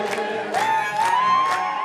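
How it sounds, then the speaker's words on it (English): A crowd of volunteers in Addis Ababa, Ethiopia cheer and roar together in rhythmic swelling bursts, with one voice whooping and holding a rising note above the chanting throng. "But that didn't matter to the crowd, who roared on their neighbors preparing for war"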